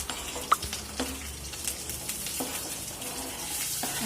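Green chilies frying in a pan for upma, a soft steady sizzle with a few light clinks of a utensil against the pan.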